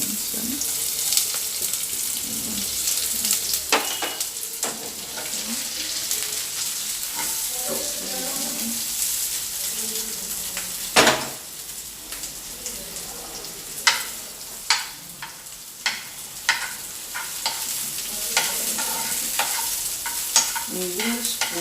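Onions sizzle steadily in hot oil as a spoon stirs them, with close scraping and scattered sharp clicks of the spoon against the pan throughout.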